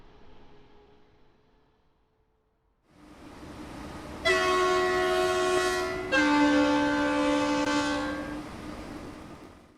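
A Deutsche Bahn ICE 3 electric multiple unit train in Train Sim World 3 starts up after a quiet moment, its motor whine swelling, then two long two-tone horn blasts sound loud and close.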